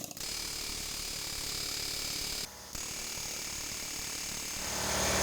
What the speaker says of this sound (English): is actually use my favorite tool. It's called an air hammer.